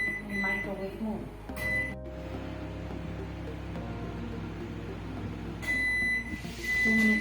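Panasonic microwave oven running in microwave mode while heating ghee with cardamom, a steady low hum throughout with short high beeps near the start and again near the end, under background talk.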